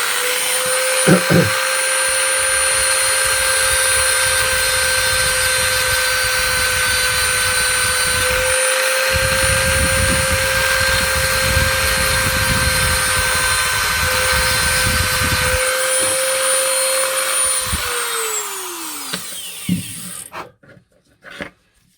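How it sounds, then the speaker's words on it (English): A Dremel rotary tool grinds steadily on an Astra H Z16XEP twinport intake manifold, a loud continuous high-pitched whine with a rasping edge that runs for about eighteen seconds before spinning down and stopping. "A little bit more work with the Dremel."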